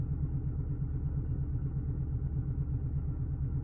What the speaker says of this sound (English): The engine keeps its rhythm.